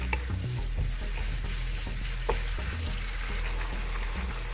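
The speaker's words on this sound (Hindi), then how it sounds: "तो इसको हमने फिर चला लिया, मिक्स कर लिया सबको हमने।" Finely chopped chicken and chillies for chow mein sizzle in a pan while being stirred and mixed. A steady frying hiss carries low scraping rumbles and an occasional sharp tap of the utensil, close by, with no speech.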